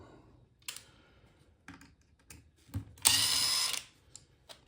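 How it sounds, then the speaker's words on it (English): A cordless power tool takes apart a Traxxas Rally Slash 4x4 RC car, with short whirring bursts and clicking ratchet sounds separated by pauses, then one longer buzzing run near the end. "Typically I use my power tools for disassembly, and not for assembly very often."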